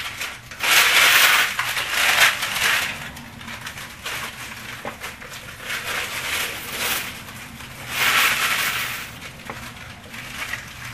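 Crinkling of a new SunChips compostable chip bag, loud crackling bursts in several waves, handled close up with no talking.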